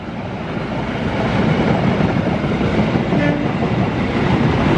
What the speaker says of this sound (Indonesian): Sedih sekali ya lihat kereta api ini melintas langsung stasiun Cibatu gitu ya